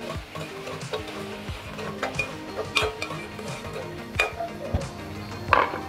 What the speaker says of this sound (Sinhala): ඒ වගේ මම දාගන්නවා තක්කාලි සෝස් දාලා මම කලම් කරගන්නවා